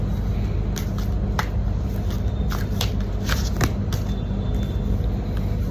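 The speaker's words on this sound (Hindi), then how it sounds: "I really like to shuffle cards more and more." Tarot cards are shuffled by hand close up, with repeated crisp riffling and slapping bursts over a constant low background hum.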